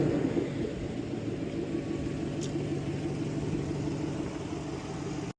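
A Chevrolet Silverado Trail Boss pickup rumbles at a steady low idle while being parked, a continuous close engine drone with no speech.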